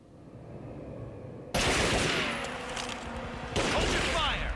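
Sustained automatic gunfire bursts out suddenly in Tomb Raider Legend, a loud, dense fusillade of rapid shots with ricochets that carries on to the end after a quieter stretch of ambient noise.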